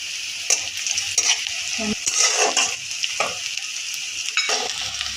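Crushed garlic sizzles steadily in hot oil in a pan while being stirred for dal khichdi, with scraping strokes of a spoon over the frying hiss.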